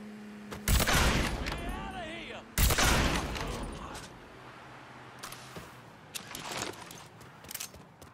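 Two loud gunshot bursts ring out in Mafia III, the first near the start and the second a couple of seconds later, each followed by a decaying echo, with scattered fainter shots and a voice faintly calling out afterward.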